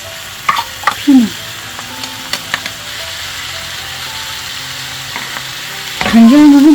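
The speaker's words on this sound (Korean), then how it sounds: "계속 볶을게요." Potatoes with onion and bell pepper stir-fried in an oiled pan, with a steady sizzle beneath sharp scraping and clacking of the spatula and a few brief squeaky strokes.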